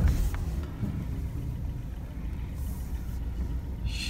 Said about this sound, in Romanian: Pornim motorul.